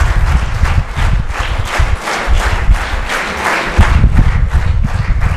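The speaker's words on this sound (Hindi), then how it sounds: "उसकी जोरदार तालियों से हम एमडी साहब का स्वागत करेंगे" Loud, vigorous applause from a packed hall welcomes the managing director at a company training program, with dense rapid clapping and some low thumping underneath, steady throughout.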